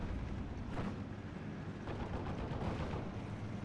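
Nebelwerfer rocket artillery fires in the WWII strategy game Steel Division: Normandy, a dense, rumbling barrage of overlapping blasts with a couple of sharper bursts, heard at a moderate level.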